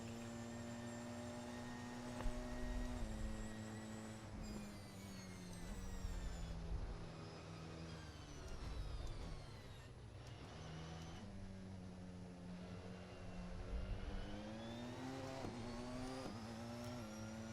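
Race car engine in a sim racing game during a warm-up outlap, a steady droning whine that climbs and drops with repeated gear changes, continuous and fairly loud with no talking.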